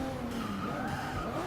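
Race cars skid through a corner in Forza Motorsport 6, a loud continuous tire squeal over engine roar lasting a moment without pause.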